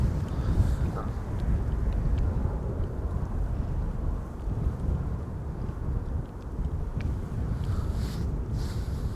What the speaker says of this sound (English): That's what you get when you have wind.